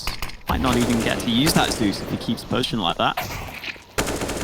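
Gunfire in a professional CS:GO match on Nuke, heard as rapid shots and bursts beneath continuous excited commentary from casters talking over the action.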